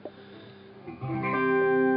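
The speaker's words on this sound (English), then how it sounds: "a phaser on it, a delay on it, and it's got the cloud setting from the Big Sky on it for the reverb" Clean electric guitar tone run through a phaser, delay and a Big Sky reverb on its cloud setting, heard as a soft pick then a sustained ringing chord that swells and lingers, clear and close with no talk.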